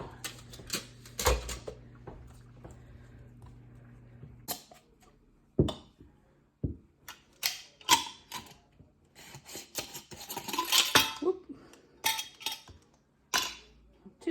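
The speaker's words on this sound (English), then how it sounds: "The strawberries I'm going to cut up before I put those in the jar." Strawberries being cut up for mason jars produce a scattered run of crisp knife taps and light clatters against a board, irregular and close, sometimes in quick bursts, with quiet gaps between.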